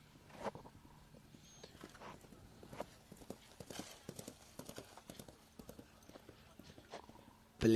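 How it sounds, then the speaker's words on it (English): Polo horses' hooves clip-clop on turf as players change mounts during a Nations Cup match, a scattered run of irregular thuds at moderate distance with a brief whinny and faint commentary underneath. "all the players will go and change horses"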